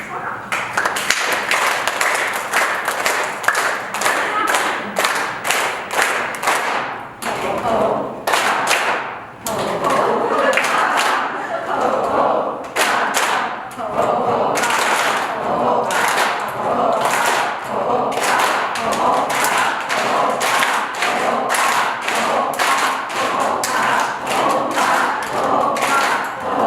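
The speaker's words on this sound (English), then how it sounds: "You can take your hands, spread them wide, and just clap." A group at a laughter yoga session in Montreal claps with hands spread wide, giving a long run of sharp, rapid claps while an instructor talks over them.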